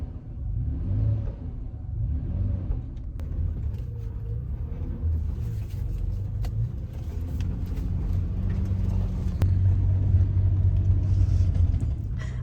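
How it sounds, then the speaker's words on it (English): A car's steady low rumble while driving on remote dirt roads, continuous engine drone and road noise heard from inside the cabin, with no talking. "I've been driving an hour on these dirt roads"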